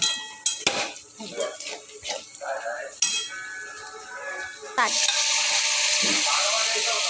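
Cooked cowpeas tipped into a hot pan and stirred, utensil clinks and scraping followed by a loud, steady sizzle close by.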